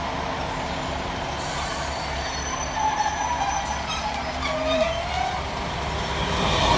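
An Avanti train passes Levenshulme station with a steady rumble of wheels on rails, rising slightly as it draws near, plus a thin wheel squeal sliding in pitch, heard without talk.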